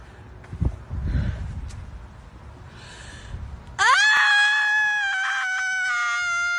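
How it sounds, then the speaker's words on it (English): After a few seconds of muffled outdoor rustling and footsteps, a woman on a morning walk lets out a sudden, sustained, piercing screech, loud and close, holding for about three seconds. "Just a completely sane leftist woman on her morning walk screeching into the abyss"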